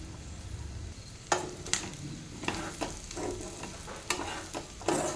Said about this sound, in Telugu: ఇప్పుడు ఇందులోనే అలసందలు వేసుకోవాలి